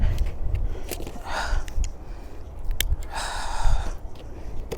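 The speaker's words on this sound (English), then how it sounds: "Sorry for breathing hard" A person breathing hard after wrestling with a boxed gadget while unpacking a pineapple guava tree for the garden: close, heavy gasps and snorting exhales in uneven bursts, with no talking.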